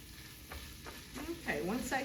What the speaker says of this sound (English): you see how I'm kind of breaking it up with my pancake turner as I go